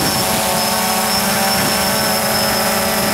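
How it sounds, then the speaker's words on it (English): A constant high-pitched whine from the T-Motor MN2214 v2 motors of a DJI Phantom 2 Vision drone hovering in wind rides over a dense, steady whirring roar of small rotors spinning close by. "there's a little bit of like a high-pitched whine from these motors."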